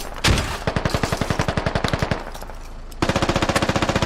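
.50 caliber machine gun fire in the video game Squad, with a loud, close run of rapid shots, a brief break, then another fast burst.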